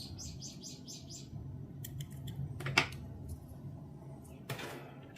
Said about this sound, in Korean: 지금 묶어준 실은 바짝 잘라줍니다